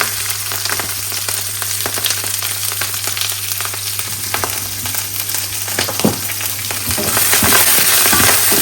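Ingredients frying lightly in oil over high heat: a loud, close, continuous sizzle with crackles and occasional stirring scrapes, growing stronger toward the end, over a low steady hum and with no talking.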